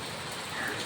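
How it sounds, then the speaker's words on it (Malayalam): Steady rain patters on a house's rooftop terrace as a dense, even hiss throughout a brief moment, fairly loud and close. "വീടും പരിസരവും മഴ നനഞ്ഞ് നല്ല തണുത്ത അന്തരീക്ഷമായി കൊണ്ടിരിക്കുകയാണ്"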